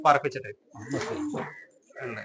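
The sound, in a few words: racing pigeon cooing in a loft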